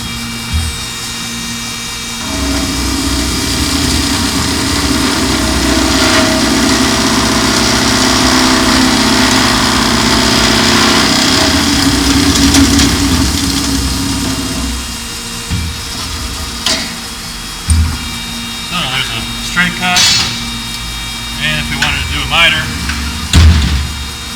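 Kaltenbach KKS400E saw cutting tube with coolant applied to the blade, at speed 2: a steady loud grinding run for about fifteen seconds, then quieter clanks and knocks as it winds down.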